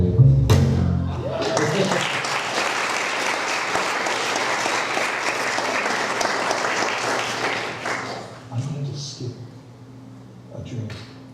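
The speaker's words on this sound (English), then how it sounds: "Can we just have another round of applause for Cassidy?" An audience at a music recital breaks into applause, with a full burst of clapping rising after a brief spoken moment, holding strongly for several seconds, then fading as a voice speaks over the quieter end.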